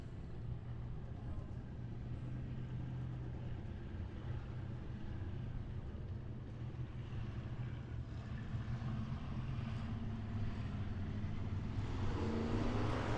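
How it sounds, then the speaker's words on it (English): Street stock race cars in a heat race at Emo Speedway, a steady distant engine drone with a low rumble that builds slightly toward the end, heard alone without talk. "So we're going to have 4 cars in this heat race of Emo Street Stocks."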